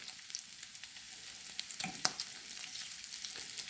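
Bacon fries in a pan on a Sunday morning, producing a steady soft sizzle and hiss with scattered small pops and a couple of sharper crackles, close but fairly quiet, with no voices.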